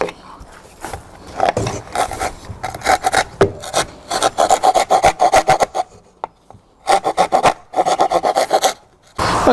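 Rough rasping strokes on reclaimed scaffold board wood, enlarging a hole, repeated in quick bursts with brief pauses, close up and fairly loud.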